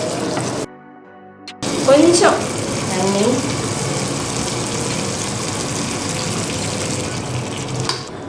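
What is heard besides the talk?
liquid being poured into cooking pot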